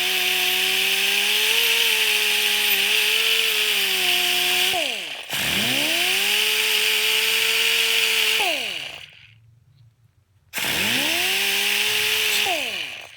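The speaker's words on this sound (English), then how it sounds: "Using your grinder, using your wire wheel like that." An angle grinder fitted with a wire wheel scrubs the sealing surface of a 1973 Suzuki TC125 fuel cut-off valve; a loud whine rises and falls in pitch across three bursts, with a brief silent gap near the end.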